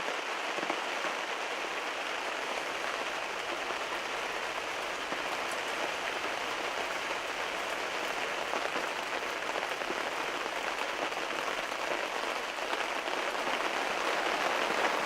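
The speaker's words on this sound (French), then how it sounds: "S'il met à pleuvoir quand même assez fort." Fairly heavy rain falls steadily on surfaces outdoors during a long hunting stakeout, an even, dense patter of drops lasting throughout with no speech.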